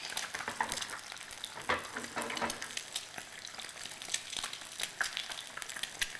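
Tocino fries in a pan, a close, steady sizzle broken by crackles and the scrape of stirring and basting, with no talking.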